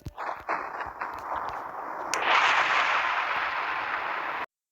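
Sharp cracks and thuds open, then a loud roaring rush swells and holds steady until it cuts out abruptly.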